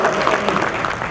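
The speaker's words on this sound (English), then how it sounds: "So if you would please give Viola Solomon a round of applause" An audience at a home buyers forum applauds Viola Solomon, a dense, steady round of clapping heard close and loud for the whole moment, with a little crowd murmur underneath.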